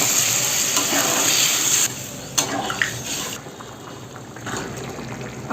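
Water pours into a pan of frying potato gravy and is stirred, a loud, close, broad hissing sizzle that drops to a softer bubbling hiss partway through, with a few small knocks and no speech.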